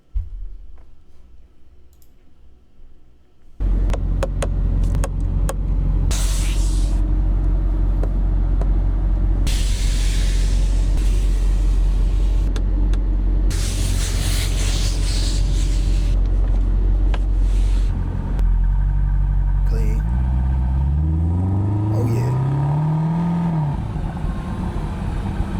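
Mercedes SLS AMG engine starting with a sudden roar, then idling with a deep loud rumble and clicking, followed by rising and falling revs near the end, heard close up.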